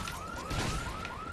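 A car alarm in the zombie video game Dead Rising 3 sounds in short repeating upward-sweeping whoops, a steady cycling pattern heard at moderate distance over game background noise.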